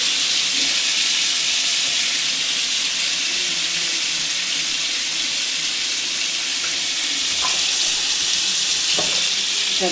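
Loud, steady sizzling of potatoes frying in hot oil in a pan, a continuous hiss close up with occasional faint clinks.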